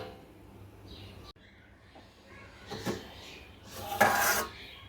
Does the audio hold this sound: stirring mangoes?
yes